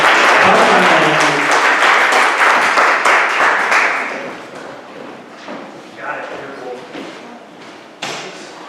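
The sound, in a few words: audience applause welcoming Marla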